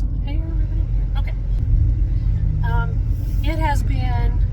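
Cabin of a Chevrolet Tahoe on the move, with a steady low road rumble and engine drone filling the interior, and someone talking over it at intervals.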